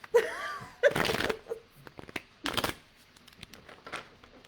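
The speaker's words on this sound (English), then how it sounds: "she is shuffling the deck" A Thoth tarot deck being shuffled up close, with papery riffles and card flutters in short bursts between pauses, with faint breath or laughter now and then.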